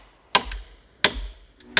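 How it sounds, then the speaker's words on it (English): Three sharp, evenly spaced hammer strikes start driving pieces into the ground at a shelter build site. Each blow is clear and fairly close, with a short ringing decay, and there is no talk. "I'll just get them started with the hammer."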